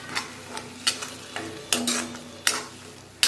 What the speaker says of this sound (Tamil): நல்லா எண்ணெய் பிரிஞ்சு வர்ற அளவுக்கு வதக்குங்க.